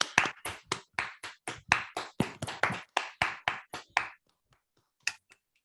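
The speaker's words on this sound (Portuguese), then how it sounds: "uma salva de palmas" A single participant in an online meeting clapping after a physics talk, about twenty sharp claps close to the mic in a steady rhythm, then silence with a few faint taps.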